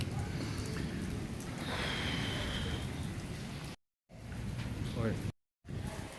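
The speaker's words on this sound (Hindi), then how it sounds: "बारिश की छाड़ बहुत ज़्यादा आ रही है" Steady, dense hiss of heavy rain pouring down close by, continuous throughout with a couple of abrupt dropouts.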